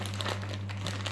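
A plastic packet of hickory smoked nuts crinkles and rustles continuously while being cut open with poor scissors, close up over a steady low hum.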